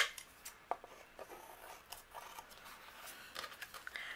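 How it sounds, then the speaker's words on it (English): Scissors trim an overhanging edge off patterned photo paper, giving a series of short, faint snips and paper crunches close up with no talking. "I'm just going to trim this off with my scissors."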